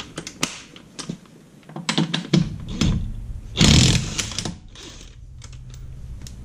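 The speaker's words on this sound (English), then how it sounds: "this is a 20 volt Dewalt DCF 899 brushless 3-speed impact." A DeWalt DCF899 20V brushless three-speed impact wrench taking off nuts, with close bursts of rattling hammering and whirring, one longer loud burst in the middle, then tapering off.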